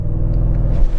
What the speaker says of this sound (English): I'm going to start with showing you how this Audi SQ7 accelerates